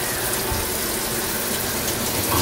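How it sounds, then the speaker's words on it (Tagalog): Water pours steadily into a rice cooker pot holding leftover rice, a continuous close splashing gush that runs throughout without a break. "Kaya ang gagawin natin, lagyan natin ng tubig."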